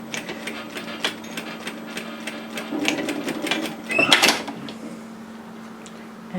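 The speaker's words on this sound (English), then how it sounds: "then just stitch it down on top of the overlocking line" Sewing machine stitching a hem down over an overlocked edge on a top: short bursts of quick mechanical needle rattle, with clicks and handling noises around them and no talk.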